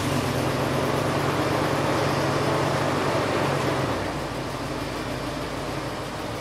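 A box truck engine idles as a steady broadband rumble and hiss, its low drone dropping away partway through while a noisy wash continues.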